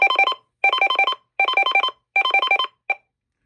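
Synthesized warble tones from a new-in-box weather radio's siren feature, four loud rapid bursts of pulsing electronic beeps about half a second each with short gaps, then a brief final blip.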